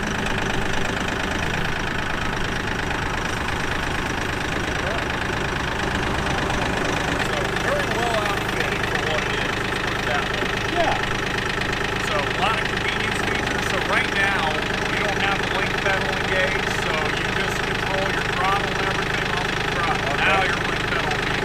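A small diesel engine of a Kioti compact tractor idles steadily at close range for the whole stretch, a constant low rumble with faint clattering on top.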